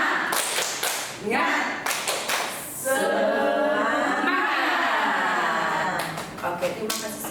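A group of adult participants at a counselling good-practice workshop does a rhythmic spirit clap: quick patterned bursts of hand claps at the start and again near the end, with a leader's voice talking loudly between them.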